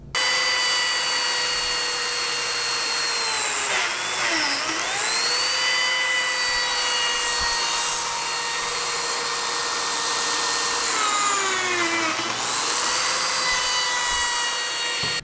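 A Lamello Zeta P2 joiner cutting slots in wood gives a steady, high electric motor whine that dips in pitch twice as the cutter bites into the workpiece, running continuously for about fifteen seconds.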